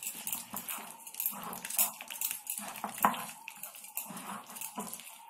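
Methi leaf fritter batter gets mixed in a bowl, making soft wet squelches and scraping clinks of the utensil against the bowl in an uneven stirring rhythm. It is fairly faint and close.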